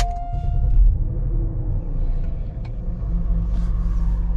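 A BMW X5 SUV rolls along a road with a steady low engine and tyre rumble heard from inside the cabin, constant and fairly loud throughout.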